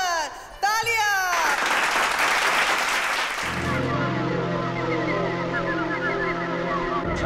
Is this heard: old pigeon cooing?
no